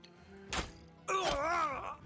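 Ranged shots strike enemies in the Battle Brothers video game: a sharp thwack of impact, and a moment later a wavering, pained groan from a struck man rises over a low game background.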